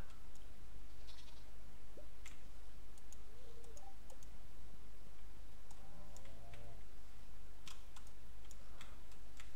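A goat in the Stardew Valley farming game bleats briefly while being milked, a short faint call over a steady background of game music and soft ticking clicks.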